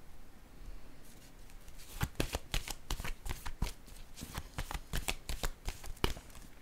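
Tarot cards being shuffled close by: a brief quiet start, then a steady run of crisp, rhythmic card slaps with no voices.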